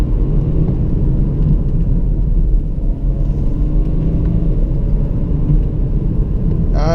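Diesel SUV engine under way, either a Jaguar F-PACE 30d or BMW X3 xDrive30d straight six, a loud steady low rumble from the cabin, with a brief higher-pitched sound at the very end.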